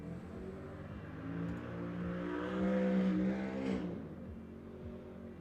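A truck passes outside, its engine rumble swelling to a peak mid-way and then fading, with a steady low drone and no voices.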